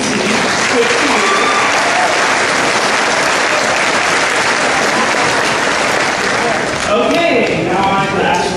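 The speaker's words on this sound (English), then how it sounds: "I want to say another round of applause for Kenzie." Loud, dense applause from a large crowd at a high school graduation ceremony, sustained for the whole stretch and easing slightly near the end, with a few voices calling out over the clapping.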